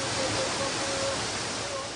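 Steady, dense rushing of an icy waterfall in Japan, a constant broadband roar with no breaks and no voices, with a faint faraway tone drifting through it.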